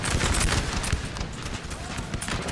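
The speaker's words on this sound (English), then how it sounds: "They're going to fire another canister." Artillery fires canister shot during a Napoleonic battle in the Napoleon Total War game, a dense, continuous crackling rumble of many overlapping loud blasts.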